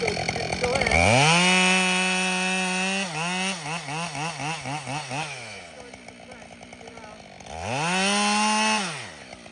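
Chainsaw bucking a log, loud and close: the engine revs up, bogs and stutters in rhythmic pulses as the chain bites into the wood, then idles briefly before revving again.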